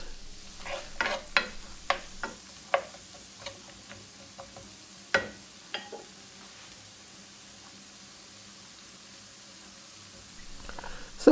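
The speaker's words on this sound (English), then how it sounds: "I'm just going to do a light saute with these veggies here" Vegetables sauteing lightly in a pot for succotash, a soft sizzle broken by a run of sharp stirring clacks early on, then a quieter hiss near the end.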